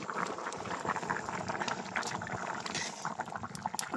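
A winter vegetable curry bubbling in a pot over a village clay stove, with a dense, steady simmering hiss and popping that runs without pause, close and moderately loud.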